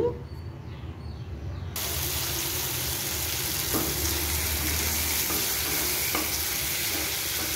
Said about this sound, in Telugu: టమాటో కూడా వేసుకొని కొంచెం బ్రౌన్ కలర్ వచ్చే వరకు వేయించుకోవాలి